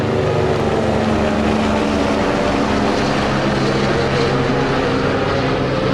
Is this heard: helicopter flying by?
yes